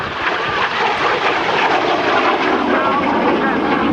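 An F-86 Sabre jet flies a demonstration at the 2013 Dayton airshow, its engine a loud, steady, broadband roar that fills the whole stretch without letting up.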